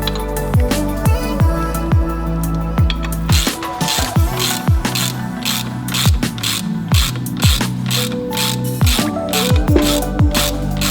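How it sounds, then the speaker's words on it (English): A pulley puller is ratcheted to draw the pulley off a supercharger, producing steady, close, rhythmic ratchet clicks and metallic gear-like ticks that repeat in quick strokes throughout. "Now we have to get a pulley puller to pull this pulley off."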